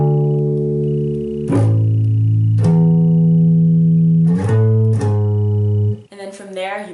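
A bass guitar plays a riff, sustained low notes changing in a steady rhythm and sounding loud and close, then a brief burst of other sound near the end.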